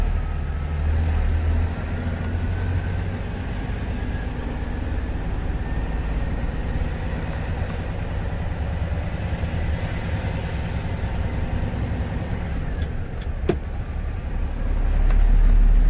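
A 12-wheel truck cruising in third gear, likely an E120B model with an S700 engine, its cab-interior drone steady and broadband with a low rumble throughout, rising slightly louder at the end.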